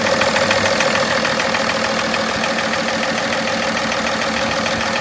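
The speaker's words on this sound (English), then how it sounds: "This engine is f***ing knocking, guys." A used engine, swapped into a BMW E24, idles with a steady rhythmic knock ticking through a continuous mid-pitched running drone, close and loud throughout with no talk.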